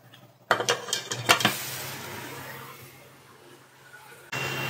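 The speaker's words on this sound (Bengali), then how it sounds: "দুধ আর জলের মিশ্রণটাকে সুজির সাথে ভালো করে মিশিয়ে নাড়াচাড়া করে নেব।" A spoon clanks against a pot a few times, then scrapes softly and steadily while semolina is stirred with a milk and water mixture.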